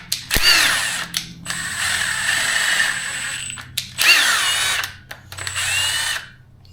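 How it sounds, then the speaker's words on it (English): A grooved bolt is run into the head bolt holes of a junkyard 5.3 engine to clean the threads, giving close, scraping ratchet-like clicks in several bursts with short pauses between them. "We're just going to clean out the head bolt holes so that we verify that they're clean, good for torquing."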